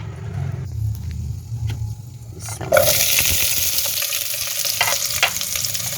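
Chopped onion, ginger, garlic and slit green chillies hitting hot oil with garam masala for a restaurant-style chicken white karahi, a steady sizzle that swells into a louder, brighter hiss partway through, with stirring noises underneath.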